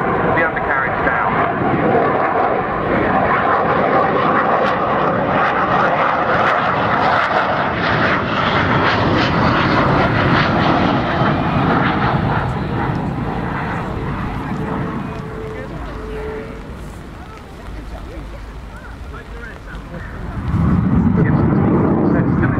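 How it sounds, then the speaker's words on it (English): A Royal Netherlands Air Force F-16 jet makes a simulated low approach with its undercarriage down at an airshow, a loud, sustained roar that rises and falls as it passes, with speech running over it. "we've geared down for a simulated low approach, and a dirty man roll dirty"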